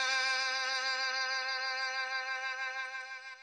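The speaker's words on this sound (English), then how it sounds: "we're going to listen to that same thing again, but with the violin notes" A single sustained violin note holds steady for about three and a half seconds, its tone rich in overtones and slowly fading toward the end, played alone with no other sound.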